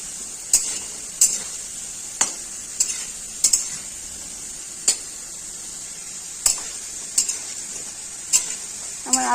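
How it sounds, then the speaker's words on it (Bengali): Potato pieces fry in a pan, frying them red, with a steady sizzle throughout and sharp stirring scrapes that recur roughly every second, close and fairly loud. "আলুগুলো সুন্দর করে লাল লাল করে ভেজে নিব।"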